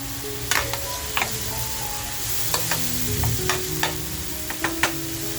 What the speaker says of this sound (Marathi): त्याच्यानंतर ज्या लाल मिरच्या घेतल्यात त्या मिरच्या टाकूया.